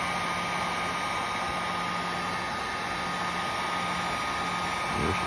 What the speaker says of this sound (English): shrink that waterproof connector down a little bit with the heat gun